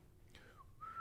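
A single whistled tone, used as a brass practice exercise, swoops downward then levels into a steady pitch, quiet and alone.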